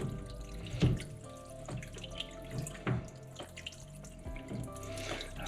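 Water draining out of a Kenmore Elite front load washer onto a towel, a steady close trickle and splashing flow with small gurgles and drips, no talking.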